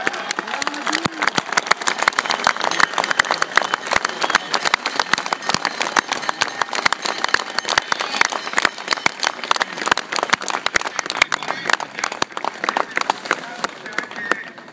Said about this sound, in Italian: guardatevi in giro e applaudiamoci